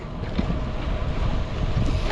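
Strong wind rushes and buffets steadily across the microphone while riding a bicycle, a loud continuous roar with no other sounds standing out.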